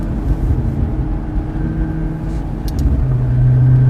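McLaren 650S Spyder engine on a track during a cool-down lap, a steady low rumble and drone that swells slightly louder toward the end, alone without talk.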